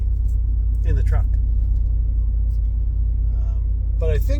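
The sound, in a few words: truck interior background noise while driving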